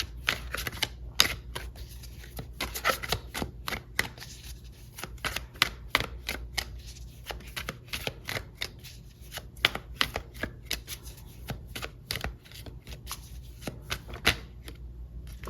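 Tarot cards being shuffled and pulled for a love reading, a steady run of crisp riffling and flicking card sounds with sharp taps, close and moderately loud, with no talking.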